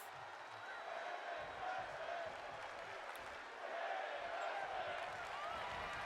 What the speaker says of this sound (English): The crowd's loving this one here.